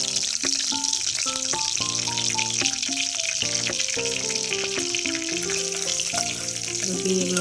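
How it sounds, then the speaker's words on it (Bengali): Dried red chillies and bay leaves frying in a little hot oil in a kadai give a steady, even sizzle throughout, with background music playing over it. "তেলের মধ্যে আমি এবার দিয়ে দেবো 2টো শুকনো লঙ্কা আর"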